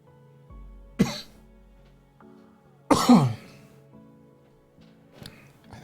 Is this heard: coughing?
yes